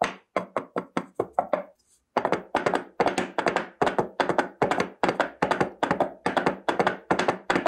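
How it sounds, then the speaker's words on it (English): A coconut shell is tapped as a foley prop, making loud, close, hollow knocks in a steady clip-clop rhythm, with a brief pause near the two-second mark before the knocking resumes. "For the recording, originally people were using the coconut shell."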